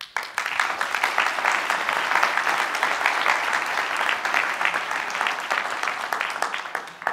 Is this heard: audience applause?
yes